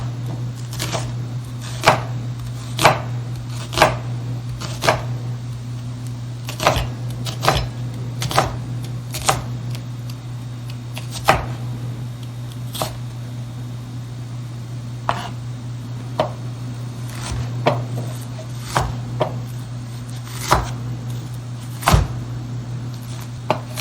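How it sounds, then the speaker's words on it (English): Onions being chopped finely with a knife on a board, a long run of sharp, evenly spaced close thuds over a steady low hum, with no talking. "So for the onions, simple, just chop them"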